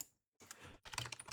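A player name is typed on a computer keyboard in a quick run of close, crisp key clicks, with a short pause of silence between two bursts.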